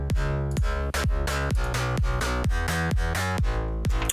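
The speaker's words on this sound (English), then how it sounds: "So let's have the kick." Kick drum sample in a music mix: a punchy, booming kick hits repeatedly at a steady tempo, about nine strikes, each with a deep pitch drop, under sustained tonal backing.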